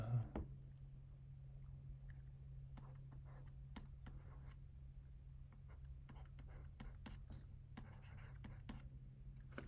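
Chalk or marker tapping and scratching out a calculus formula during a university statistics lecture, faint intermittent strokes over a steady low room hum, with no speech.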